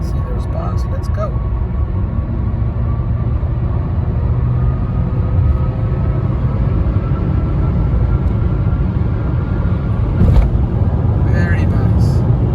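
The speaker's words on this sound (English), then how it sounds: "Very quick acceleration." A Honda car engine pulls away hard from a complete stop, its loud, steady rumbling drone filling the whole stretch with no letup, while a voice speaks faintly over it.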